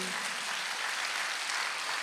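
A church congregation claps during a Sunday sermon, a dense, even wash of applause filling the room without a break.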